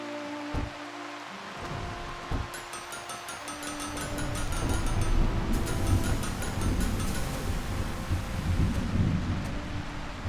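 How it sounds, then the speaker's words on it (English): Rain with thunder in the blacksmith game Blacksmith Master: a steady hiss of rainfall that swells louder midway, with deep rumbling thunder and game chimes over it, and no talk. "Raining today."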